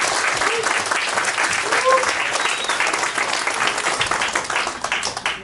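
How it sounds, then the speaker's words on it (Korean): Sustained applause from a church audience at a Christmas celebration of a Korean church in Abu Dhabi, dense steady clapping filling the room throughout, with a brief whistle-like tone partway through. "우리 그런 의미에서 크게 박수 한번 드릴까요?"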